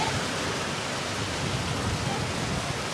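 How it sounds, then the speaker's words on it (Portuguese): Heavy rain pouring over the city of Rio Verde, a dense, steady, loud hiss with no breaks, heard from a spot near a snack bar. "É uma chuva que já tem uns 20, 25 minutos, caindo bastante água aqui pela cidade."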